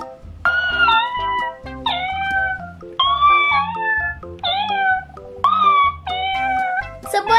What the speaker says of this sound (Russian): Собачка мяукает.